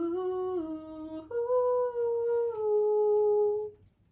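A voice imitates howling wind during a sung children's story about rain, sustained sliding "ooh" tones that dip and rise across a few seconds before fading out.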